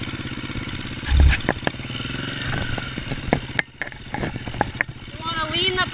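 A motorcycle eased slowly across slippery rocks in flowing river water, the engine puttering low with clunks and knocks from the wheels, a rider talking over it and the revs rising near the end.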